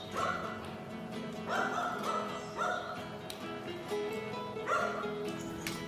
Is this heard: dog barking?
yes